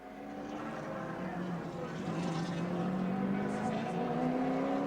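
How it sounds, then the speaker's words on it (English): A touring race car from the 1984 Australian Touring Car Championship round at Symmons Plains crosses the finish line, its steady engine drone rising slightly in pitch and loudness as it approaches. "Peter Brock takes the checkered flag to win round 2 of the 1984 title"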